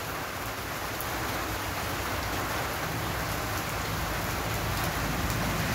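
Heavy rain pours down in a steady, unbroken roar of dense drops drumming on surfaces, loud and constant throughout with no voices.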